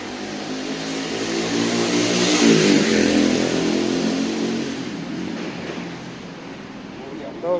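Motorcycles rev and roar through a street in the old tourist quarter of Tbilisi, Georgia. The engine noise swells as they pass close by, then fades into steady broadband traffic hiss.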